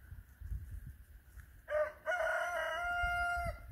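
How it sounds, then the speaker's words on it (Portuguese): A rooster crows once before dawn, clear and moderately distant, over a quiet low rumble of background noise. "Olha o galo cantando."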